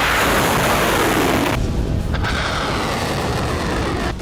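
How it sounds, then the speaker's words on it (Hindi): Missile launches during an attack: a dense, continuous roaring blast fills the whole stretch, loud and broadband with a sharp drop in the upper hiss partway through, no voices. "वीडियो हमले के वक्त मिसाइलों की लॉन्चिंग का है"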